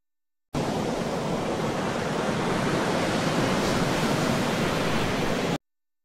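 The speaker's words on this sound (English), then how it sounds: "I heard the gusts of wind and the waves crashing" AI-generated wind gusts and crashing waves form a dense, continuous roar of surf and blowing air, loud and even for about five seconds, with no talking.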